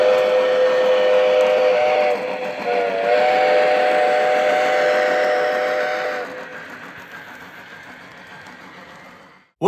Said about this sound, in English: How does it stack up next to this prototypical whistle of the Strasburg 90?